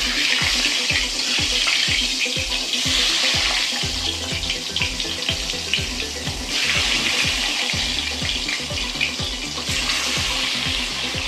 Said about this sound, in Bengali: ডিমগুলো আমি ভেজে নিই বন্ধুরা তেলের মধ্যে হলুদ দিয়ে ডিম ভাজবে